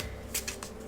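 A deck of tarot cards is shuffled in a quick flurry of soft, papery riffles and flicks lasting under a second, close by and without speech.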